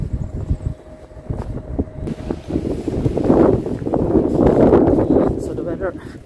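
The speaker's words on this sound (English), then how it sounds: "It's extremely windy." Strong wind buffets the microphone at the Kilkea Castle graveyard in Ireland, a rough rumbling roar that builds and swells through the second half, with a voice speaking underneath.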